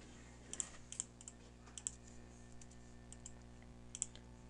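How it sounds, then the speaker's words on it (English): Keystrokes on a computer keyboard while typing into Notepad, a quiet run of light clicks with a few sharper taps, irregular in rhythm, alone and close. "just keep on typing and start as many times as you want"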